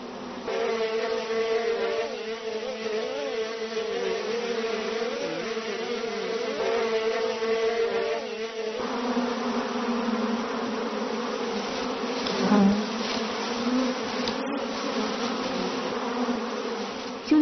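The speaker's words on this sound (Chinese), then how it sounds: "竹篓里的野蜜蜂慢慢多了起来" Wild honeybees swarm around a bamboo basket, their dense, continuous buzzing steady and close throughout, shifting in pitch as the insects move.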